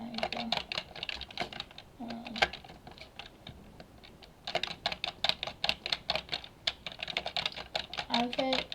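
Rapid computer keyboard keystrokes while practising bridging in Minecraft: bursts of crisp, close clacks in fast irregular runs, pausing briefly midway before resuming densely, with a voice faintly present in the background.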